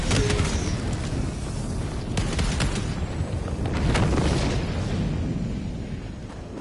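Grenade blast in the Helldivers 2 video game, a dense, loud rumbling boom that rolls on without a break amid sustained battle noise, with no clear separate hits.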